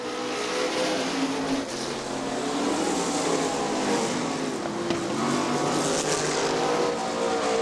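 Sprint cars roaring past on a dirt oval at Crystal Motor Speedway, a loud continuous engine drone swelling and fading as the field thunders by during a late-race lap.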